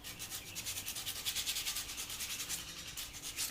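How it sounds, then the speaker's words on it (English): Hand sanding the tip of a bow, a steady rhythmic rubbing of abrasive against wood in quick back-and-forth strokes, close and fairly soft with no talking. "I also, you know, want to sand that shelf off."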